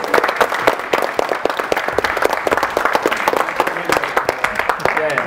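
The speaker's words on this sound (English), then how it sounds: "Come on, give them a big applause." Applause from the audience at the closing of the T-DOSE 2013 open source conference, loud continuous clapping throughout, with voices mixed in around it.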